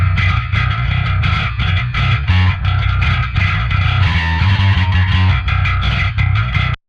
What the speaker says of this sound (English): That was our gritty bass preamp through parallax.